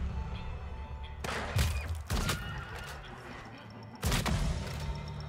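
Gunfire in the Wild West action RPG Weird West cracks out in a few sharp, loud bursts spaced apart, standing out over a low ambient game backdrop with no talking.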